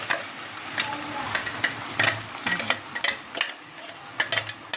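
Ground homemade masala paste hitting a hot pan, sizzling and frying with repeated sharp crackles and spatters as it is stirred, close and lively, no talking.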